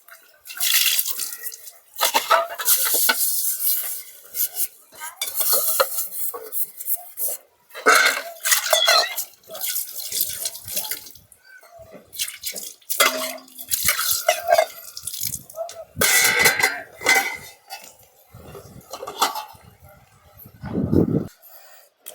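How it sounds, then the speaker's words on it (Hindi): Utensils are washed by hand with running water in a forest hermitage, with splashing, dripping, and the clank of metal pots and plates coming in irregular bursts, close by. "देखिए अभी महाराज जी बर्तन धुल रहे हैं।"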